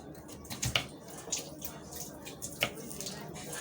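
Jamrul fruit rinsed under running water, soft splashing and trickling with a few sharper drips and squishy handling sounds, fairly quiet and close, with no talking.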